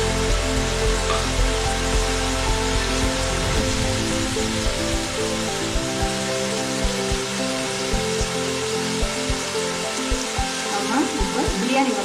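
Mutton frying in a pan for a traditional seeraga samba mutton biryani, giving a continuous dense sizzle that is close and fairly loud, with faint crackles that thin out toward the end.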